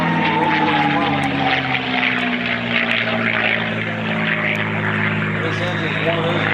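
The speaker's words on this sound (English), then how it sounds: "This is a Roush Rolls-Royce engine." A propeller aircraft powered by a Roush Rolls-Royce engine drones loudly past at an air show, its steady roar sliding slowly down in pitch as someone talks over it.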